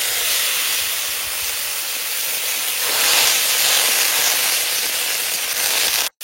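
Chukor sour fruit drops into hot oil seasoned with panch phoron, setting off a loud, steady hiss of sizzling that holds for several seconds before cutting off abruptly.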